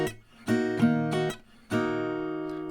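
Close acoustic guitar strums in a short pattern, some strokes cut off abruptly by muting between bursts of ringing chords, ending on a sustained chord.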